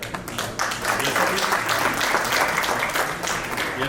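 Audience applause at a financial inclusion regional conference in North India, a steady wash of many hands clapping throughout, fairly loud and sustained without a break.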